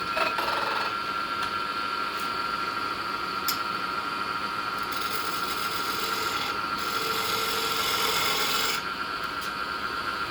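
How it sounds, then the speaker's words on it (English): A detail gouge cutting a koa wood tenon on a spinning lathe, producing a steady, fairly loud rasping scrape with a constant high whine, holding evenly throughout with small shifts in texture. "I'm going to switch to the detail gouge here and clean this tenon up."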